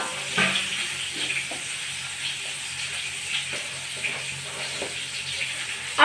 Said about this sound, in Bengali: কড়াইয়ে আর একটু তেল দিয়ে দেবো, পটলটাকে ভেজে নেব